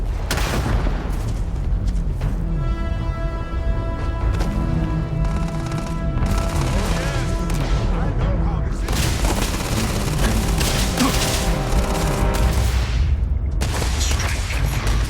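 Gunfire from a weapon in the video game Starfield, dense bursts of shots and booms, loud and continuous throughout, with music and voices mixed in.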